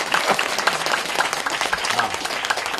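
Audience applause during a New Year's Eve Dharma talk by a Buddhist monk on a day trip near Zengwen Reservoir, a steady patter of claps throughout with some crowd noise mixed in.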